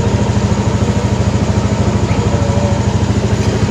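A motorcycle engine idles steadily up close, with a loud, even, rapid low throb and no pauses.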